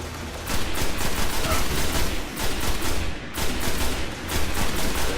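Loud, rapid bursts of gunfire in the video game Destiny, several volleys of repeated shots in quick succession with brief pauses between them, close and dominant with no talking.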